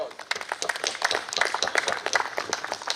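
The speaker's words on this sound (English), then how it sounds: "I would request each person who is present here to give him a big round of applause." Applause from an audience at a business event in Kolhapur, a steady patter of many hands clapping at moderate loudness, with some voices mixed in.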